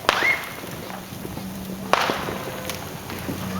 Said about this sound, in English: You can hear the cannon go off before the explosion, so you know where to turn.